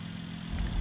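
A 2017 Mercedes-AMG SLC43 roadster idles with a steady low rumble. The engine swells slightly louder in the last moments before shutdown, and no voices are heard.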